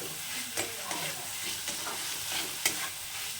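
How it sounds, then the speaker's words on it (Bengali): Fried vegetables are stirred into spices in a pan for a vegetable dal, giving a close, continuous sizzle with a few sharp spoon clicks and scrapes against the metal. There is no speech. "এবার সবজিগুলোকে এর সঙ্গে খুব ভালো করে কষিয়ে নিতে হবে"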